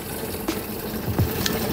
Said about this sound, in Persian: آب خیلی راحت میره داخل